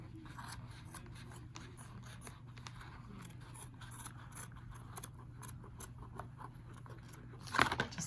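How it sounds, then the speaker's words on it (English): Scissors snipping through yarn for a sock doll wig, a steady series of close, quiet cutting clicks over a low hum, ending in a brief louder snip. "you're going to take your scissors and you're just going to cut all the way down"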